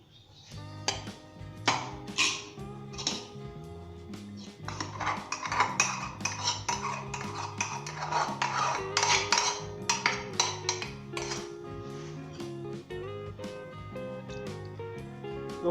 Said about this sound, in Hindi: अब हम इसके अंदर मैक्रोनी शामिल करेंगे,